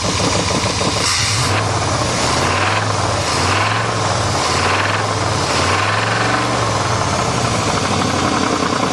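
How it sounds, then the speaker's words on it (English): A rough, heavy 1988 Chevrolet truck engine running and revving up and down in waves, with a deep rod and crank knocking clatter under the drone, continuous and close. "This thing definitely has some rod knock and crank knock."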